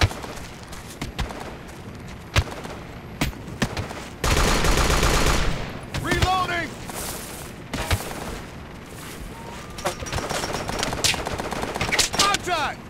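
Video game gunfire in the Flashpoint mission Decapitation: rapid bursts of automatic rifle and machine-gun fire with sharp single shots, one dense loud volley partway through, under shouted soldier callouts.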